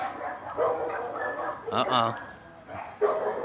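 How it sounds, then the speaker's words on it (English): Small Miniature Pinscher and Deer Head Chihuahua mix pups bark and yip on a walk while a person talks over them, with several short bursts of yapping close by. "You hear barking and you start running."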